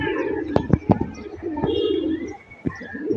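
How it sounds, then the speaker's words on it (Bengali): Pigeons in a loft coo in low repeated throaty phrases while a few step into water to bathe, with several sharp flapping or splashing bursts close by. "মাত্র 2-3টা কবুতর পানিতে নামছে"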